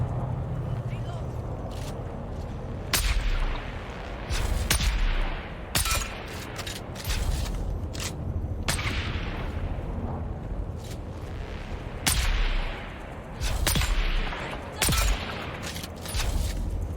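Scattered gunshots ring out in Dune: Awakening, sharp cracks and short bursts spaced across a steady background rumble, with people talking throughout.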